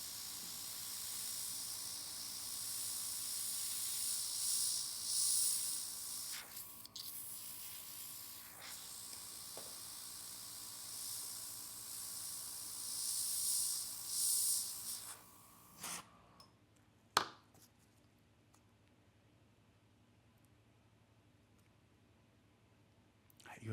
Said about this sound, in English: Again, I'm spraying on the stencil.